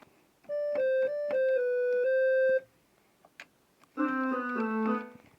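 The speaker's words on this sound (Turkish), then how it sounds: "bu orkestra sesi." Yamaha PSR 64 keyboard orchestral patch: a run of sustained, layered notes, a pause with faint noise, then a fuller chord-like passage of several notes.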